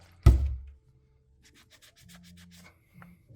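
A cloth rubs over wet concrete, starting with one sharp loud scrape, then a quieter stretch of faint, rapid rhythmic scrubbing strokes close to the surface.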